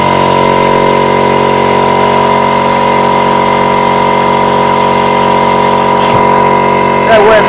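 Small baby air compressor running steadily with a constant tonal hum while a plasma cutter slices across roughly 3 mm steel, loud and close, with a brief change near the end.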